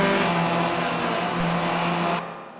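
Sim racing cars running nose to tail in a slipstream, a loud sustained engine drone with steady harmonic whine, cutting off abruptly near the end.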